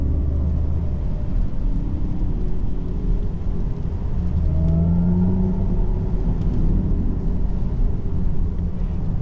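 A Mercedes EQE 300 electric car drives along small roads, giving a steady whir and low road rumble throughout with no voices.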